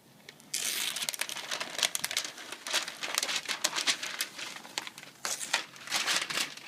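Paper masking is peeled and crinkled off a car after Plasti Dip spraying for stripes on an SRT-4, with a continuous close crackling rustle and no talk.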